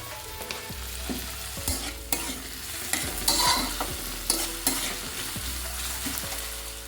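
Onion, green chilli and tomato fry in a pan for a tadka dal, with a steady sizzle and repeated scraping stirs of a spatula close by.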